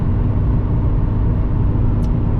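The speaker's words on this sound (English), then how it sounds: "we'll get a couple nice pulls here for you so you can hear the exhaust" Exhaust of a cheap, worn-out daily-driven Subaru under acceleration, a loud, steady low-pitched drone heard from inside the car with no talking.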